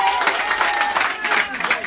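Audience applause and crowd noise at a neighbourhood charity event where school supplies are handed out to children, a steady dense clapping wash close by with voices mixed in.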